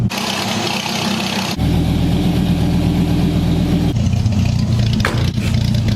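Car engine idling right beside the exhaust pipe, a loud steady low rumble that shifts in tone partway through, with no talk over it.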